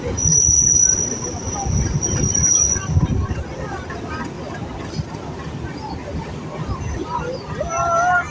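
A small rural railway station at Sukanpukur, with a train and a crowd of voices; a broad rumble of rolling train noise mixes with busy babble throughout, and a high steady whine sits above it.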